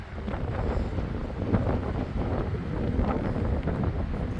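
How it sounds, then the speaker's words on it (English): Cold wind blowing across a lake on an off-road 4x4 trip, a loud steady rumbling buffet of gusts against the microphone throughout, with no talk. "The wind is really cold and blowing."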